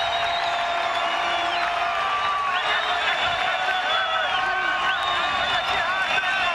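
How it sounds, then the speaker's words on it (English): Football stadium crowd at a Montana State versus Northern Arizona college game, rising in a steady, loud roar of cheering and whooping that runs the whole way through, with no break in the noise. "Crowd on their feet."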